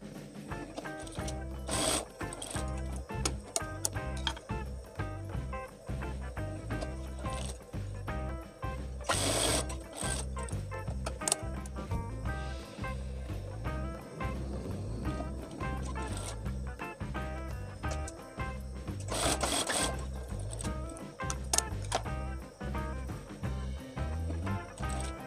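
An overlock sewing machine runs in bursts while stitching batik fabric for a gamis dress, a rapid mechanical rattling hum with brief pauses and louder stretches, close and fairly quiet, with no voices.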